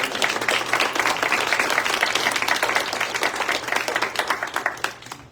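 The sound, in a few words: audience applause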